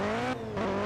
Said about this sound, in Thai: ผมชอบรถคันนี้เสียงโคตเรียลลิสติก